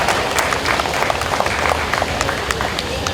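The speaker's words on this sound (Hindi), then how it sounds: "एक बार जोरदार ताली हो जाए" Applause and cheering from a college audience after a beatboxing act, a steady dense wash of clapping that holds at an even level for the whole span, with crowd noise mixed in.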